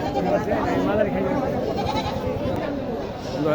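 Goats bleat at a busy Eid livestock market in Naogaon, a faint bleating half-buried under a constant dense babble of crowd voices close by.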